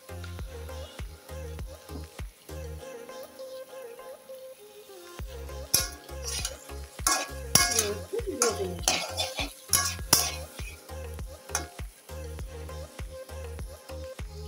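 Ash gourd and drumstick pieces drop into a hot pan, followed by a sputtering sizzle and repeated clanks and scrapes of a spoon stirring against metal, loud and close after a brief quiet gap.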